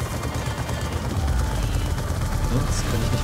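Steady, dense video game gunfire in Call of Duty: Black Ops 2 roars continuously, rapid automatic bursts blending into a constant loud wash with no pauses.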